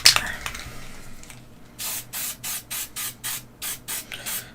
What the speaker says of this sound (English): So, quick blast of Testors dull coat over it all.